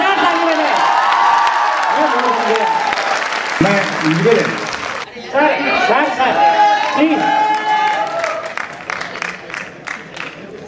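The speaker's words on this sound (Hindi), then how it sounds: "एक बार जोरदार ताली बजाएं" Loud audience clapping and cheering at a live stage comedy performance, the crowd noise swelling and dipping while several voices talk over it up close.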